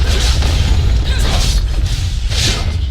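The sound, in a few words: turret being destroyed in video game League of Legends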